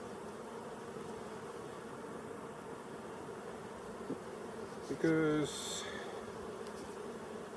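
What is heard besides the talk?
honey bees in an open hive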